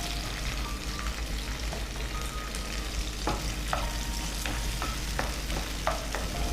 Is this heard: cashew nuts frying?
yes